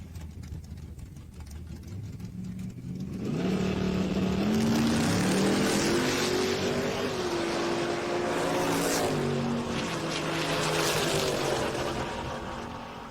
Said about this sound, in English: Jason Bertrand's Chevelle being driven by Ken Cuttle Jr. left-hand side.